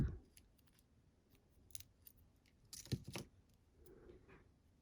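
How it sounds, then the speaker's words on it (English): Scissors snip through paper card while a greeting card is trimmed, giving a few short, crisp cuts close by and fairly quiet, separated by soft handling rustles. "And now I can cut this part."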